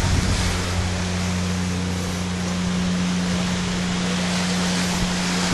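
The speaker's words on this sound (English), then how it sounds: "Here's the beach in the morning before everybody wakes up." Morning ocean surf at a quiet resort beach, a continuous broad wash of waves with steady hum and rumble underneath, loud and unbroken, no voices.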